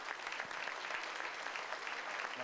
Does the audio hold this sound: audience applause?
yes